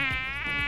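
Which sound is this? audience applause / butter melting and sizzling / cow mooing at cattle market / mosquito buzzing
mosquito buzzing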